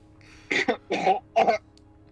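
Three short, rough coughs in quick succession, close and fairly loud, with brief pauses between them.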